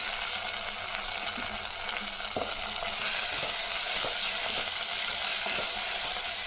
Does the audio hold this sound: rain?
no